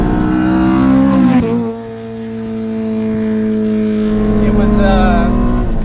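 An Infiniti car engine drones loudly and steadily from inside the cabin while driving, with a brief dip in revs before climbing again, and a voice speaks briefly over it.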